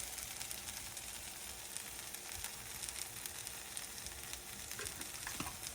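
Garlic and cumin frying in a pan for huevos rancheros, a dense, continuous crackling sizzle up close, with a couple of stirring sounds near the end and no speech.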